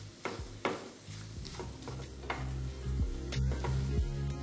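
Grated boiled potato with carrots frying in a pan, an unspiced mix giving a steady soft sizzle with repeated scraping stirs and light utensil taps against the pan.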